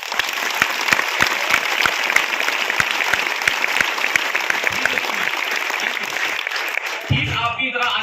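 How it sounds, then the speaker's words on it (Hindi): Loud applause from a business meeting audience, many hands clapping in a steady dense wash with sharp individual claps up front, fading out as a voice takes over at the end. "तो एक बार जोरदार तालियां आप सभी के लिए।"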